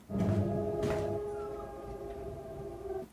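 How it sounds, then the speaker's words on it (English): Puppy howling and whimpering in a drawn-out, wavering cry, moderately close, from the Chernobyl drama series. "that sounds like a puppy"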